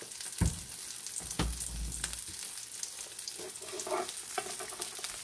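Cooking oil heating and sizzling in a hot pan, a steady close crackle with a few sharp pops and spatters, no talking.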